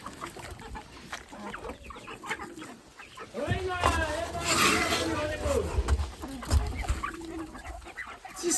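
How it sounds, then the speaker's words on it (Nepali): A flock of chickens clucks and squawks while being fed rice, busy and close, with a person talking over the birds. "कति धेरै यहाँ कुखुरा रहेछ कि म यिनीहरूलाई चामल दिँदैछु"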